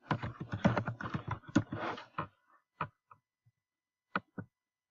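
Keys clatter on a computer keyboard in a quick, close burst of typing for about two seconds, followed by a few scattered single taps in an otherwise quiet room.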